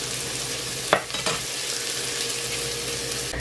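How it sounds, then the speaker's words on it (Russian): Onion and carrot pieces fry in a pan with a steady, continuous sizzle, broken by a couple of brief scraping stirs of a utensil near the one-second mark. No one talks. "Итак, я обжаривала лук где-то в течение минуты."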